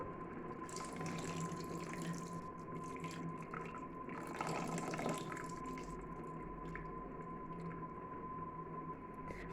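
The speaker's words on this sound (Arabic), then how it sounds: "هنايا عندي واحد لابواط ديال الاناناس المعلب، غادي ندير غير الماء ديالو." Juice poured from a can of pineapple makes a steady watery trickle for about ten seconds at moderate level, with a brief louder splash in the middle and no voices.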